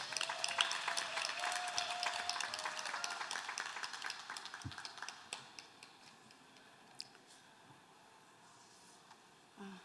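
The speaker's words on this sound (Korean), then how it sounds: "큰 박수로 맞이해 주시기 바랍니다" An audience at a regional social innovation event applauds a company representative taking the stage, the clapping strong at first and then thinning into scattered claps that die away.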